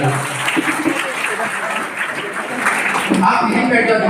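A crowd at a business plan seminar bursts into loud, sustained applause, with voices and murmuring mixed into the clapping.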